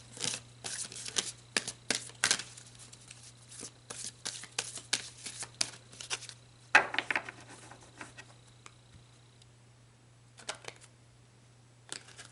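Tarot cards being shuffled in quick papery riffles and flutters, a dense run of soft slaps and card flicks over a steady low hum, easing toward the end.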